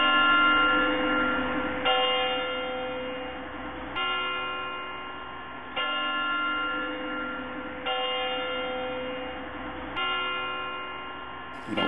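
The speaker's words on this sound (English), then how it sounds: "wake up to the sound of the bells" A church bell tolls slowly and steadily, one strike roughly every two seconds, each ring lingering and fading into the next, heard from a moderate distance.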